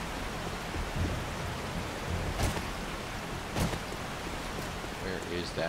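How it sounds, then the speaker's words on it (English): Rain falling in 7 Days To Die, a faint steady hiss of rain with occasional soft clicks and bumps, low in level and without speech. "I fucking hate the rain, man."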